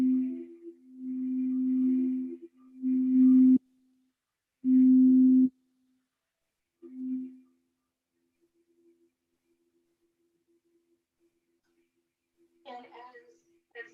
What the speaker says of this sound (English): tone, that musical note of F